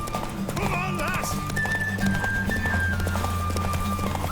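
Hooves clip-clop at a steady galloping rhythm, close and fairly loud, as a horse runs in the video game The Witcher 3, with game music, a whinny and voices talking over it.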